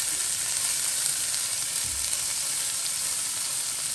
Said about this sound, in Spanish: Ya tengo aquí las bolitas hechas. Es carne molida de res. Aquí la voy a dejar cocinar.